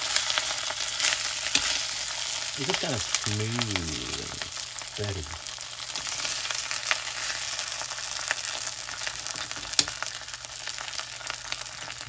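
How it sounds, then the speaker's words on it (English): Steady sizzling of a smoked pork chop frying in a pan, a continuous bright crackle throughout with a brief voice speaking partway through. "This is bubbling."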